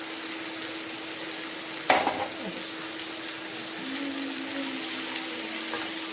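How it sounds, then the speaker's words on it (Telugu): Cabbage drops into a hot pan with a sharp burst of sizzling, then keeps up a steady, fairly loud frying hiss with a little stirring, made as a fry to go with chapati or rice. "ఇప్పుడు మనం ఈ క్యాబేజ్ వేసేసుకుందాం"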